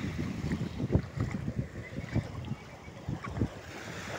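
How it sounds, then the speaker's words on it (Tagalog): Strong wind at sea buffets the microphone in rough, low rumbling gusts, with water sloshing underneath, continuous and loud. "malakas yung hampas ng hangin"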